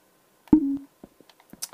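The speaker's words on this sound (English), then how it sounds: "I just had a message on my phone" A phone chimes once with a short, steady message-notification tone, followed by a few faint, scattered clicks in an otherwise quiet room.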